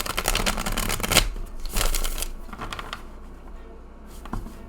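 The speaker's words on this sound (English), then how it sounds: "This is a relatively thick deck, as you can see, but check this shuffle." A thick tarot deck with bendy cardstock being shuffled, two quick riffling bursts of crisp card flutter followed by a softer settling rustle, close and alone.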